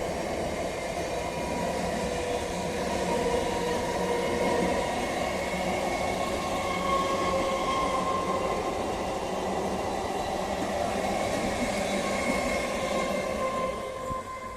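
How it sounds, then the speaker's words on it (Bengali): The 31915 up Sealdah–Gede local train pulls out of Kanchrapara railway station toward Kalyani, a steady rumble of rolling wagons with faint wheel squeal and rail clatter sustained throughout at moderate distance. "31915 up Sealdah Gede local Kanchrapara rail station ছেড়ে কল্যাণীর দিকে যাচ্ছে।"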